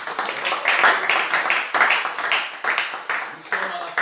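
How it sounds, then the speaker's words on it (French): Congregation clapping at the end of a church service, bursts of clapping with rhythmic accents mixed with voices calling out over it. "Applaudissons."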